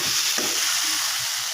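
Masoor dal and potatoes cooking in a pan give off a steady, close broadband sizzle, with a few soft stirring knocks, for the whole short moment.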